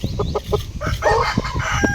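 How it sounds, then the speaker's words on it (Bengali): Agitated chickens cluck and squawk in quick, overlapping bursts, close by, with a brief crow-like call among the fowl noises. "মুরগিতে লড়াই করে একদম পুরো ছিঁড়ে ফেলেছে, তবুও যাচ্ছে লড়াই করতে"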